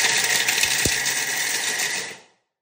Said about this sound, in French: Et là, on va mixer 2 fois. Là, il utilise le turbo.